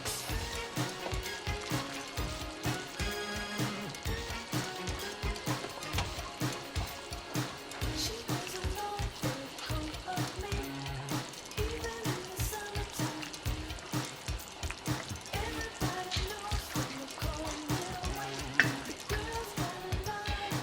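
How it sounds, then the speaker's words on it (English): Hot pho beef broth ladled over thin raw slices of beef in a bowl, a steady dense splashing and pouring wash like light rain that runs continuously and evenly at close range, with no talking. "you're gonna ladle the broth straight on top of the sliced beef so the beef cooks"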